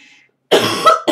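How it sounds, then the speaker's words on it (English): A single harsh, loud cough bursts out close by after a brief quiet moment, followed by a short second burst. "getting a cough again"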